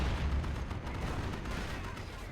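Continuous artillery bombardment in Company of Heroes, with dense rumbling booms and overlapping blasts rolling together into a heavy, low barrage.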